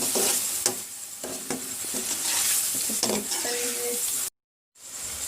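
Green chilli paste frying in a pan for chicken dal gosht, loud continuous sizzle with rhythmic spoon stirring strokes, breaking off briefly into silence before the sizzle resumes.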